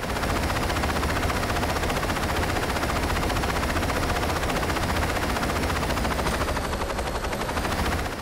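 Helicopter rotor noise in the video game Saints Row 2, a dense, continuous, loud chopping roar that holds steady throughout with no talk over it.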